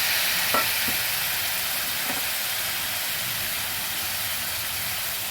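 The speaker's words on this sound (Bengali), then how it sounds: "পেঁয়াজ আদা রসুন বাটা মশলাগুলো ভালোভাবে ভেজে নিলাম এবার একটুখানি জল দিয়ে দিচ্ছি" Water is poured into fried onion, ginger and garlic paste for a boyal fish curry, setting off a loud, steady hiss of sizzling that fills the whole stretch, with a few faint clinks early on and no voices.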